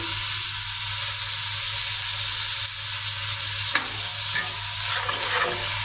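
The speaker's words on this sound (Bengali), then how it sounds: "এখন এই মশলাটা আরও ভালো করে কষিয়ে নেবো" A mustard spice paste for drumstick curry fries hard in a pan, a loud, continuous hissing sizzle with a couple of brief scrapes as it is stirred.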